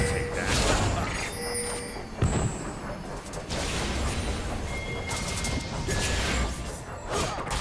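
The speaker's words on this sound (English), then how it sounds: "Red team's turret has been destroyed." A turret collapsing in the game League of Legends during a Draven versus Jhin bot lane match, heard as a loud crashing, shattering burst amid dense, continuous battle noise with whooshes and impacts throughout.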